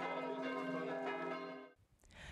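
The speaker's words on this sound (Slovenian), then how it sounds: "Ko pa točno polnoči zadonijo zvonovi, je čas za odhod v cerkev in božično polnočnico." Church bells toll at midnight for Christmas in Slovenia, a rich resonant ringing with sustained overtones that carries for under two seconds before cutting off abruptly.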